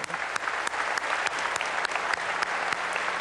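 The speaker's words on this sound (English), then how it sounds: "One more round of applause." Sustained applause from an audience at the 2003 World Food Prize ceremony, steady dense clapping with scattered louder claps throughout, continuous and fairly near.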